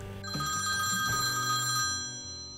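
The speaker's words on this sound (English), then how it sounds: "I just get Wolfenstein started and the phone rings." A telephone rings in a computer room, a loud electronic bell trilling steadily for about two seconds and then cutting off, close and with no voices.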